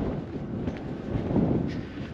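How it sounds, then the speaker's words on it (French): Strong wind in the Monegros desert buffeting a microphone, a continuous low rumbling roar with gusty swells and no voices. "il y a un vent aujourd'hui incroyable"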